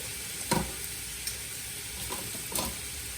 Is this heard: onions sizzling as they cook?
yes